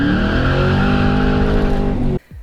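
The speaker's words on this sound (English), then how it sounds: "Clutch dump." Car launching hard with a clutch dump on Nitto NT555R2 drag radial tires, a loud, steady engine roar with tire noise lasting about two seconds, then cutting off abruptly into quieter sound.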